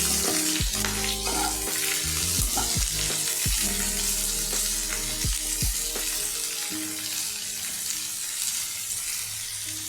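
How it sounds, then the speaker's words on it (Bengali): Onions sauté in a pan for mutton pulao with a loud, steady sizzle. Sharp spoon scrapes and clinks from stirring come through, with no talking. "এটা একটু সাতলানো হোক। পেঁয়াজটা একটু সাতলানো হয়েছে"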